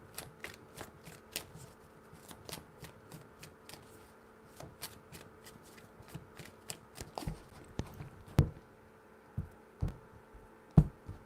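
A tarot deck is handled and shuffled, with a steady series of light, crisp card taps and flicks close by, then a few louder slaps toward the end.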